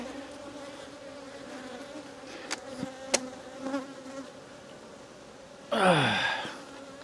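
Honey bees hum around a hive box in a faint, steady drone, with a few sharp knocks and a loud rustling burst near the end.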